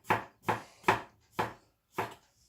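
A knife strikes a cutting board five times in an unhurried, even rhythm, each chop a crisp close knock followed by a brief pause, with no talking.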